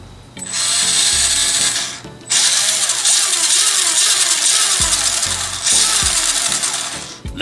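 The small electric motor of a 1/16-scale Diecast Masters Freightliner Cascadia model truck whines loudly up close in three long bursts, revving and easing with short gaps between runs.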